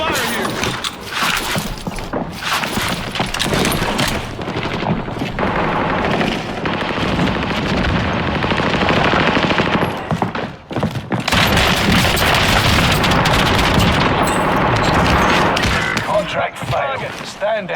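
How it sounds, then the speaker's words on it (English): Heavy automatic gunfire and booming explosions in the video game Warzone rattle almost nonstop, loud and close, with bursts, thuds and brief lulls, mixed with voice chat. "under heavy fire here"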